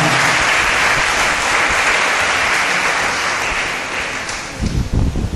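Church congregation applauding and cheering, a loud dense wash of clapping filling the space for about five seconds, thinning slightly near the end as a few heavier low thumps break through.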